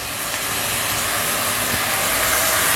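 Water boiling off on high heat in a pan of mutton and eggplant curry, a loud steady sizzling hiss that builds slightly and continues without pause, with no talking.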